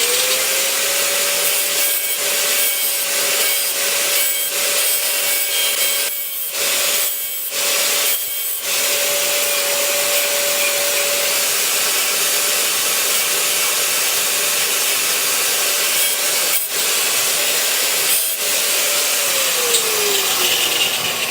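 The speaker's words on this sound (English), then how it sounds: "I'm just making sure that all the edges are kind of filed down" Continuous, loud abrasive rubbing of a file against the edges of a drilled hole in an ocean rowboat hull, steady throughout with a few brief pauses.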